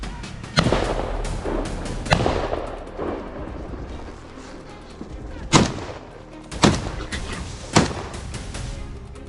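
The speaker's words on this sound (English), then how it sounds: "A volley of gunfire tore through the silence loud, relentless and final." Loud gunshots crack out during a wild boar hunt, several sharp bangs spaced a second or more apart, each trailing off into echo outdoors.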